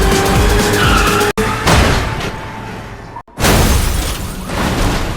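A car skids hard with screeching tires during a chase in a Korean action film, loud and close, with a sharp crash-like break and a cut before a second long squeal.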